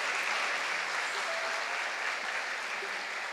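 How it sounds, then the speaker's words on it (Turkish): Warm audience applause at a solo concert, a dense, even wash of clapping held at a steady level throughout. "sevgili Gamze'ye de yine kocaman bir alkış istiyorum"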